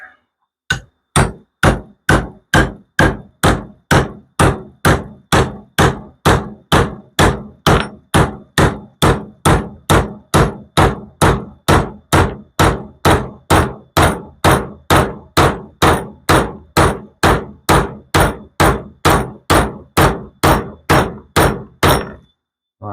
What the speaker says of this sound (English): Slightly bang my bushing just back in place.